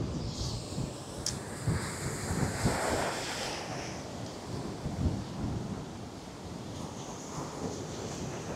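Sea waves foam and wash onto a white-sand beach at Dhanushkodi, Tamil Nadu, a steady broadband roar of surf with wind buffeting the microphone throughout, no voices.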